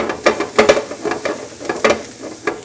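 Onions sauté in a pan while a utensil stirs and scrapes them, producing a soft sizzle broken by frequent close clinks and scrapes in an uneven rhythm for a Maine lobster paella, with no voices.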